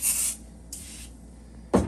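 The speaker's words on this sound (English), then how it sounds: "So I'm going to spray a little bit of glass cleaner" A spray bottle of glass cleaner gives a few short, close hissing squirts inside an oven door, two soft bursts followed by a sharper knock at the end.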